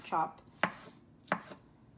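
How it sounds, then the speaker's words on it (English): A knife chops raw tuna for sushi on a cutting board: three crisp, separate strikes, close and clear, with quiet gaps between them. "So what I do is I just start chopping."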